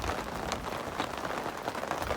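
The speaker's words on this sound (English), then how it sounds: "It's raining, thunderstorms." Steady rain in a thunderstorm at an off-grid campsite in Bailey, Colorado, a dense even patter close by with a few sharper drop hits and no thunder audible.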